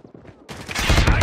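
Gunfire from the Call of Duty Mobile video game erupts into a loud, dense burst of rapid shots after a quieter opening, sustained to the end with faint voice-like sounds beforehand.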